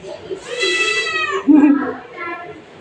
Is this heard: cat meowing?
yes